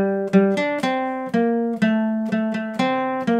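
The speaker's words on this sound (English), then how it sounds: "Notice how I'm putting some palm mute." Electric guitar riff at full speed with palm muting released as it goes: chugging, rhythmically repeated harmonic-rich notes with sharp attacks, several short bursts and sustained chords, played alone and close.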